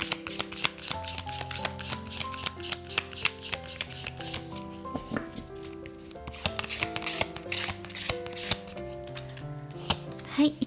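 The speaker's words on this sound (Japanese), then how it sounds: "カードをめくっていきます。" Oracle cards being shuffled and flipped, a quick run of crisp riffling and snapping card sounds with dense rhythmic bursts, close and fairly loud, plus occasional soft tones in the background.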